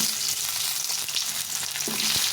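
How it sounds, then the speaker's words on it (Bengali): Potatoes frying in oil with cumin and cardamom for aloo dum, a steady dense sizzle with light stirring knocks and scrapes throughout, close and alone. "আলুগুলো ভালো করে ভেজে নেবো"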